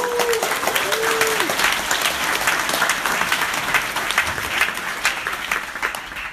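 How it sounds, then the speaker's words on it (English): Sustained applause from a conference audience at a Perl lightning-talks session in Amsterdam, a dense steady wash of many hands clapping at full strength for over six seconds, with a brief whistle-like tone near the start. "The technical staff, who deserves another round of applause."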